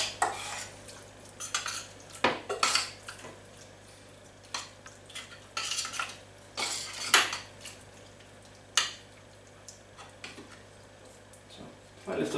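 A spoon mixing tuna, cheese, milk and flour in a bowl, with repeated scraping clinks and knocks against the bowl in an uneven rhythm, close and with a voice speaking in between.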